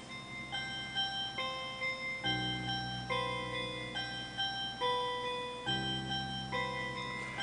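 YM2612 FM synth chiptune in Sega Genesis style, with bright bell-like plucked notes in a bouncy, stepwise pattern over a low bass that enters partway through, clean and steady with no voices.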